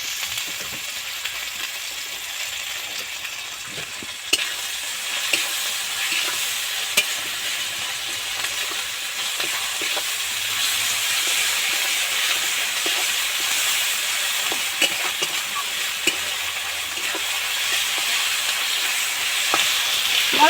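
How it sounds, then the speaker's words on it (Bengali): Spices fry in hot oil for a pui shak (Malabar spinach) dish, a continuous close hissing sizzle with scattered ticks and scrapes of stirring over a long stretch. "মশলা তো ভাজা ভাজা হয়ে গেছে তেল ছেড়ে গেছে"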